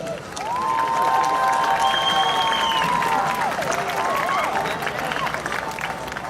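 An outdoor audience at an Independence Day concert with an orchestra in Salem, Massachusetts claps and cheers steadily for several seconds, with scattered voices and a few whistles rising over the applause.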